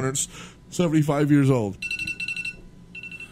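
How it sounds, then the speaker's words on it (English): Someone speaks first, then a loud, high electronic alarm beeps in a rapid repeating pattern, pauses briefly and starts again. "that was my alarm"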